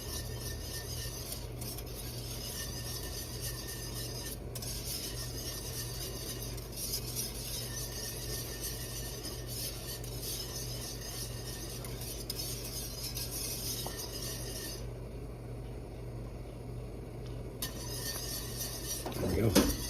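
Flour gravy stirs in a pan with a braised short-rib dinner, making soft, steady scraping and faint clinks of utensil on metal, quiet throughout, ending in a brief louder clatter.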